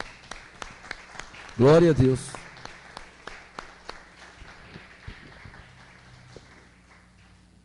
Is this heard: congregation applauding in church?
yes